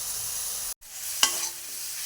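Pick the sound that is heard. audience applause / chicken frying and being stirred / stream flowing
chicken frying and being stirred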